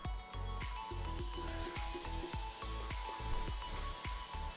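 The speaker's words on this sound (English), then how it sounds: "They're kind of sizzling a little bit." Potstickers sizzle in a frying pan, a steady crackling fry with repeated soft clatter as they shift, close and fairly quiet, no talk.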